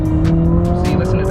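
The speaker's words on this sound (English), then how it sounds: "You just hear the engine going and going and going." Engine of a 2019 Infiniti QX50 with a CVT accelerating in a steady, unbroken drone with no gear-change breaks, loud and close, a sustained tone holding on over the short stretch.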